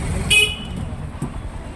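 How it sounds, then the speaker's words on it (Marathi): Short horn toot from a school auto rickshaw, close and loud for a moment, over a low running engine and road noise. "शाळेची रिक्षा"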